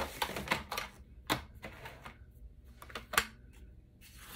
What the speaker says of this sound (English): And I'm gonna grab my trimmer.